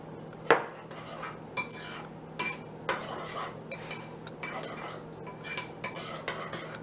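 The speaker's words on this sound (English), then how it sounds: "I'm just going to take a spoon and I'm going to mix it up." A spoon stirs stuffed pepper filling in a kitchen bowl, giving a run of close scraping clinks and taps against the dish at an uneven rhythm, with no talking.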